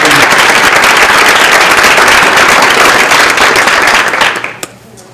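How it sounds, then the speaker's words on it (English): Loud, dense applause from an audience at a dental health community event, crisp clapping sustained for about four seconds before tapering off into quiet. "Please give our sponsors a round of applause"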